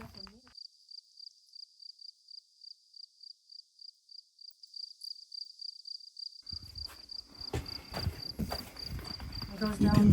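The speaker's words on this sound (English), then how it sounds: "there's crickets everywhere" Crickets at Parowan Gap keep up a steady, high, shrill chirping. Partway through, louder rustling and footsteps close by come in over the chirping.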